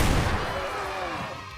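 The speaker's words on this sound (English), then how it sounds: "So when that explosion happens" An enemy bursts apart in the video game Velanian Crisis, giving a loud booming blast that rumbles and fades over about a second and a half, with no voices.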